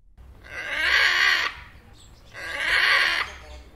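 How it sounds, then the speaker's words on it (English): A parrot gives two loud, harsh screeching calls, each about a second long with a short gap between them, close by and clear of any talk. "Parrot."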